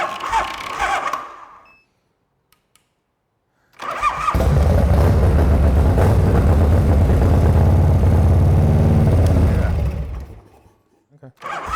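A 1980s Harley motorcycle engine in a barn cranks, stalls into a brief silence, then fires up and roars loud and close for several seconds before cutting off.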